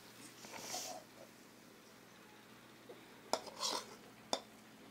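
Vegetable noodles are served onto a plate, with a few faint clinks and scrapes of a utensil against dishware in a quiet room, including a couple of sharper taps near the end.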